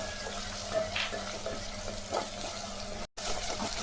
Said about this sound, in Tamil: வெங்காயம் இஞ்சி பேஸ்ட்டு நல்லா வதங்கிச்சு.